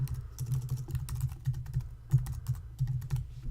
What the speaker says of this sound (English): I'm going to type in another simple password, and actually I'm just going to type in ABC123